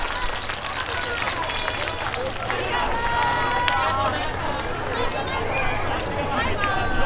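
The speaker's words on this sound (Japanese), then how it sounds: "学生の皆さんに大きな拍手を" An outdoor festival crowd at an Osaka Bay Area stage applauds Kyoto student dancers with steady, dense clapping that lasts the whole stretch, mixed with crowd murmur and brief whistle-like tones.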